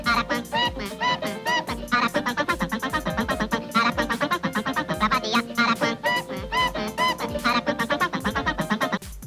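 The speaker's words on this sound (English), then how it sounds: "Now, he's called the Aracuan because of the peculiar song he sings, which sounds something like this." Aracuan bird's peculiar cartoon song from Disney's The Three Caballeros, a loud, busy run of rapid chattering, warbling calls and squawks with a dense, bouncing rhythm throughout.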